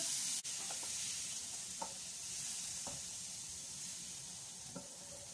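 Tempeh browning in a hot pan with a steady close sizzle and hiss, broken by a few faint clicks of stirring or utensils, with no talking.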